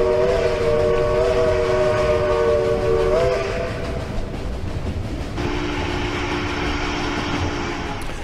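A train passes with a loud, sustained whistle that holds steady, shifts pitch partway through and sounds again more softly, over a constant rolling rumble of wagons on the rails.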